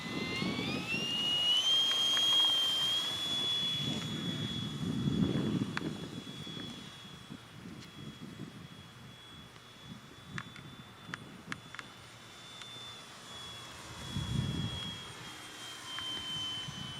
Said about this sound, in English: His first flight ever with this airplane.